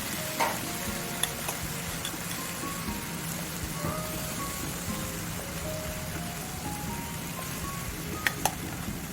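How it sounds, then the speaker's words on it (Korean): Seasoned dried pollack grills on low heat with a steady, soft sizzle and crackle throughout, a few faint clicks near the end and no talk. "양념을 바른 쪽은 1분 정도 약불로 구워주세요."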